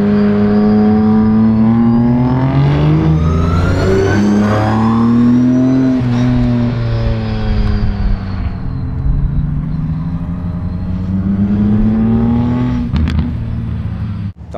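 A DTM race car engine revs loudly and close, its harmonic tone rising and falling in pitch through repeated throttle sweeps over a deep rumble, continuing for around fourteen seconds before a sharp cut at the end.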